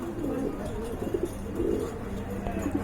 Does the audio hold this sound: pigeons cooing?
yes